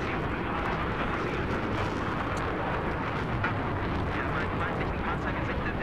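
A helicopter in a Battlefield 3 multiplayer match on Wake Island roars as a dense, steady wash of rotor and engine noise, loud and close, with no clear gaps and blended with other battle noise.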